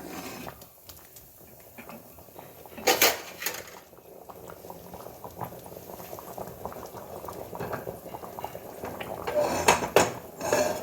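A pot of pineapple gojju bubbles at a steady rolling boil nearby, with occasional clinks of a spoon or utensil against the pan and a brief clatter.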